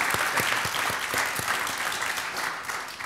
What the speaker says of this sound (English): give, actually to begin, a warm round of applause to Mr. Shaun Donovan